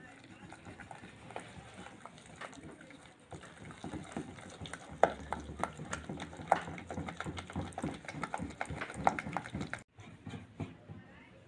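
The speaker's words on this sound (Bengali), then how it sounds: "গরম জলটা দিয়ে ভালো করে আমি ফাটিয়ে নেব।" Store-bought rice flour batter being beaten with hot water for khola pithe: steady wet stirring and slapping with sharp clicks of a utensil against the bowl, close and moderately loud, stopping abruptly near the end.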